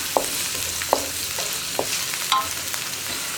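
Egg and vegetables sautéing in a pan for sweet corn fried rice, a steady sizzle broken by a few sharp spatula strikes and scrapes at irregular intervals, close, with no voices.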